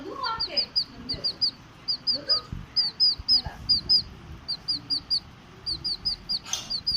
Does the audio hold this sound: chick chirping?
yes